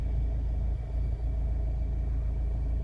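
Honda Civic 2.2 i-CTDi SE diesel engine idling steadily, a continuous low rumble and hum heard from inside the car, with no talk.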